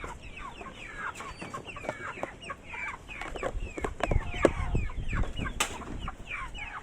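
Several chickens cluck and squawk busily nearby, with scattered wing flaps and scratching in the background.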